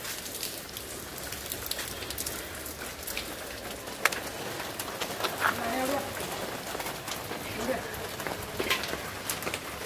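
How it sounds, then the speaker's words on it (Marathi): Steady rain patters over the scene, a soft continuous hiss with scattered drops, while people talk nearby. "पाऊस पण पडतोय."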